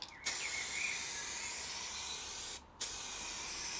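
Spray paint hissing steadily from an aerosol can as a Mini car is resprayed, close and continuous, with two brief pauses in the spray.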